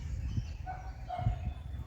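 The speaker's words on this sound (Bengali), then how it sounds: "কুকুরও ডাকছে" A dog barks twice, faint and distant, with short separated woofs amid outdoor ambience near a lake in the Darjeeling hills, and a thin birdcall in between.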